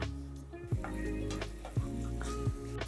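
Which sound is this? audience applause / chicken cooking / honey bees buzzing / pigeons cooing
chicken cooking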